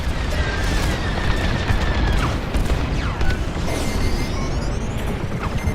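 Core detonation in the Star Wars Squadrons space combat game: a heavy, rumbling explosion with crackling blasts and mechanical whooshes, sustained loud throughout.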